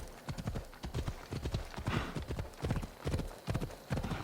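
A horse gallops in Assassin's Creed Odyssey, its hooves pounding in a steady, rapid clip-clop rhythm that stays close and prominent throughout, with no voices over it.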